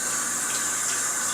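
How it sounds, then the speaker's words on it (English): Tap water runs in a steady, close hiss as hands are rinsed in a kitchen sink while an apple pie is being made, with no talking over it. "let me wash my hands really quick"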